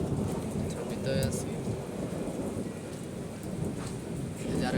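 Steady rain pours outside a roadside wheel-servicing workshop, a dense, even hiss filling the scene throughout, with a brief voice speaking over it.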